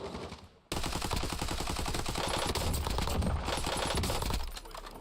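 Rapid automatic fire from an AN-94 rifle in Warzone, a dense continuous burst of gunshots starting abruptly after a brief quieter moment and running loud for about four seconds before easing off.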